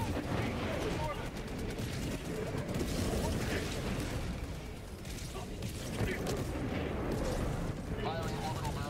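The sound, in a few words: orbital barrage artillery explosions in a video game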